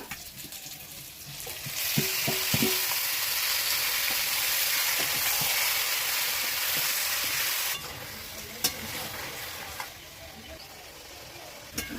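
Marinated mutton hitting hot oil with fried potatoes, onion and garlic, a loud steady sizzle with occasional stirring clinks, then the frying quiets somewhat.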